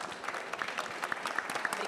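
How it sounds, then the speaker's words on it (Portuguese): Brief, lively applause from an audience at a liberty forum debate, a dense patter of many hands with sharp individual claps, moderately distant. "Uma salva de palmas aqui, depois de um speech desse aqui"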